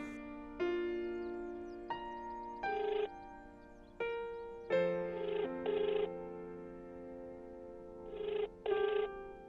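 A landline telephone rings with bright electronic tones in irregular short bursts and longer held notes, loud and close, with no talking.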